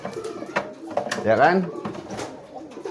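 Two pigeons coo close by, a soft warbling burst rising midway, with a person briefly talking over it.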